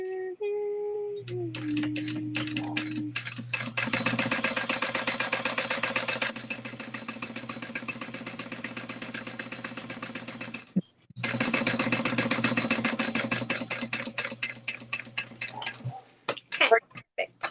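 A sewing machine stitches a half-inch seam on a side panel, whirring in fast rhythmic bursts with a brief stop midway, close and loud, while someone talks at the start and end.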